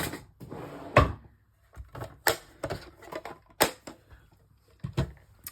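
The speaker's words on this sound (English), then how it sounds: "They can go back in my drawer." A desk drawer handled during a card-making session, with a series of sharp clicks and knocks, one loud thump near the start and several lighter taps and rattles spaced irregularly, close by with no talk.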